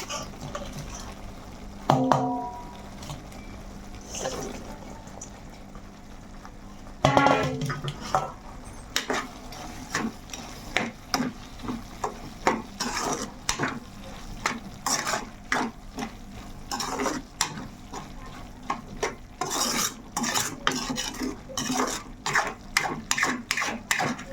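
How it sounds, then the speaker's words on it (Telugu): Raw prawns go into a hot pan for a prawn pickle and are stirred, with sizzling under steady, repeated scraping and clinking of a utensil against the pan, close and fairly loud throughout. "అయితే ఈ రొయ్యలు అనేది వేసేసుకుందాం"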